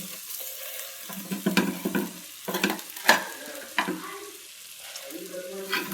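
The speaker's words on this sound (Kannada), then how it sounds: "ಇವತ್ತು ತುರಿದಿರುವಂಥ ಮಾವಿನಕಾಯಿ ಹಾಕ್ತಾಯಿದ್ದೀನಿ" Grated raw mango goes into a hot pan and is stirred and fried, giving soft sizzling with scraping spatula strokes and a sharp clink of utensil on metal.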